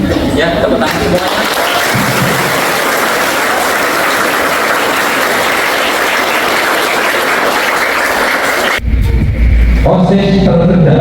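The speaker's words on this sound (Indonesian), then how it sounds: "Ya, tepuk tangan semuanya." School students at a new-student orientation applaud loudly in a dense, sustained burst lasting several seconds; it cuts off abruptly, and a short stretch of other loud sound and voices follows.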